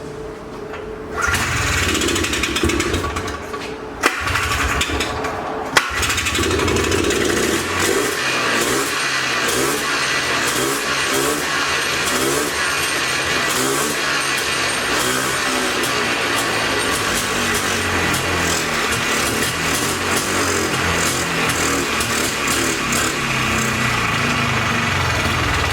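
A 2005 Polaris Trail Blazer quad engine runs close by with a loud, steady, buzzy drone, after a couple of short bumps near the start, and no talking.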